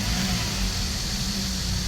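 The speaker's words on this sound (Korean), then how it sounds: "엔진 소음" The engine of a 2014 Hyundai Porter II one-ton manual truck drones steadily up close, a deep, low continuous roar without talk, briefly rising as it revs.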